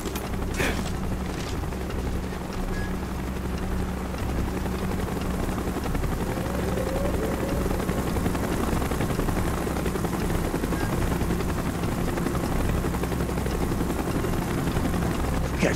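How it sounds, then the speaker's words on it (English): A helicopter flies in during a Call of Duty: Black Ops campaign mission, a loud continuous rotor roar and engine rumble that stays steady throughout with no clear talk over it. "Chopper's inbound. Move it."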